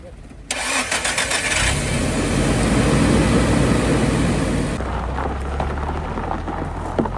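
A Mitsuoka Yuga car engine cranks and fires with a loud, close roar, settles into a rough idle after a few seconds, then drops off, while people talk nearby.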